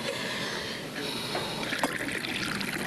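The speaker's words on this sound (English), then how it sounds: "Will you pour or shall I?" Tea being poured from a pot into a cup, a steady trickling stream of liquid, close and fairly soft, with no voices.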